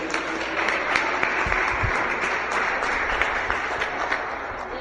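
A church congregation applauding during an evening service, a dense, steady wash of clapping from many hands filling the space evenly for several seconds, with no voices over it.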